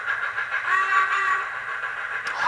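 Digital sound whistle from a Hornby Black 5 model steam locomotive, a steady sustained hissing tone lasting a couple of seconds at moderate level, heard alone with no voices.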